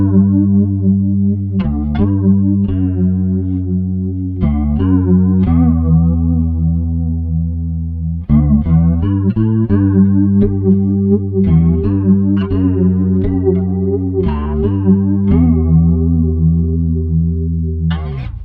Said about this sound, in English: And now let's hear the flanger.